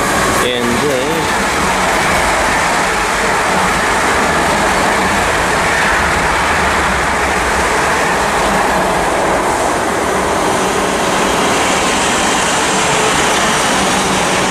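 Class 450 and class 444 trains accelerate side by side through Weybridge railway station, a loud close rumble with rising traction whine and wheel noise that fills the whole stretch, while someone talks over it.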